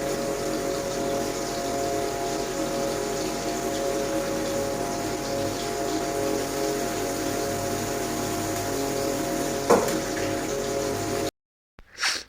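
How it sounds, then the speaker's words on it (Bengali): Fish sizzles steadily in hot oil in a pan, a continuous crackling hiss with a constant background hum, one brief clatter near the end before the sound cuts out. "দেখো বন্ধুরা আমি সেই মাছটা ভাজছি"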